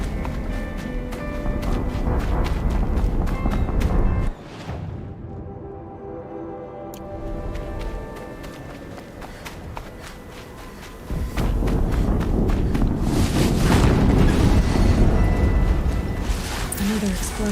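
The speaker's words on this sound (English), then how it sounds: "Another explosion." Explosions in the video game Horizon Zero Dawn, loud booming blasts with rumbling low end amid continuous game action, a sudden drop to quieter ambience mid-clip, then another heavy burst of noise.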